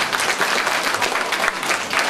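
Steady audience applause fills a community centre hall at a 2019 Great Orchestra of Christmas Charity finale in Kałuszyn, dense and sustained clapping from a crowd throughout with no talk over it.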